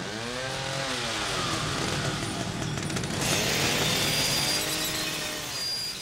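Chainsaw in the horror video game The Evil Within, a buzzing motor that revs and rises in pitch as it cuts, loud and close, with a brief glassy clatter mixed in partway through.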